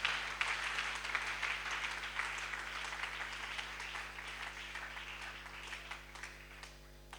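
A church congregation applauds, a steady wash of clapping that stays loud and dense before easing slightly toward the end, with no talk over it.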